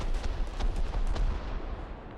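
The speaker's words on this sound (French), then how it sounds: "qui vient de prendre un shoot dans la tourelle par Egocentrist" A tank cannon shot strikes a turret during a War Thunder-style video game match, heard as a series of loud, booming blasts and crashing impacts in quick succession, dense and close with a rumbling low end.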